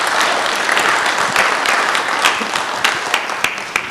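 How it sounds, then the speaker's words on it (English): A crowd at a city council meeting gives Mike a short, brisk round of applause, with close, crisp claps throughout. "Let's give Mike another round of applause"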